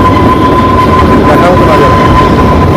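The Kalka–Shimla toy train running uphill, a loud, continuous rumble with a steady high whine and faint rhythmic rattling from the carriages, heard from on board.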